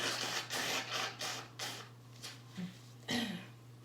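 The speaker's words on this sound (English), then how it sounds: "Okay, so I'm gonna blow my nose." Several bursts of a person blowing their nose, a morning allergy-congestion sound, repeated in short uneven blasts close to the mic, with a steady low hum running underneath.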